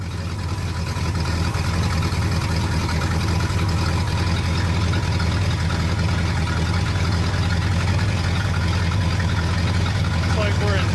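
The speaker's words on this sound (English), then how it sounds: "Nice low idle, probably 500 RPM." A 1976 Ford F-250 with a 390 FE V8 idles low and steady, its close, loud rumble holding an even drone throughout with no break.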